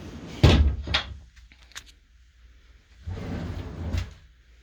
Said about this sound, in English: Another latch to make sure you keep secured for travel is going to be for your slide wardrobe.